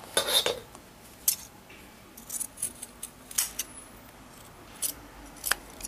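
Scissors cut across the hem of denim jeans in short snips with quiet gaps between them, close and crisp, with a few faint clinks.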